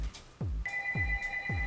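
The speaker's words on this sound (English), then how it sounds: "Sorry about the phone." Telephone ringing with a steady electronic tone during an indoor show, faint and under soft rhythmic low thumps.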